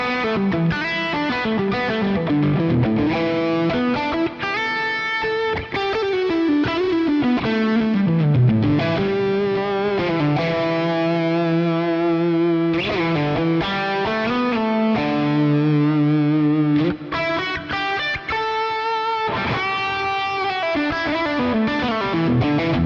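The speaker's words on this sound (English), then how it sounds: "for lead, I kick on compressor, delay, reverb" Sustained distorted electric guitar lead through a Fractal FM9, compressed with delay and reverb trails, playing continuous melodic phrases and bends at a steady loud level.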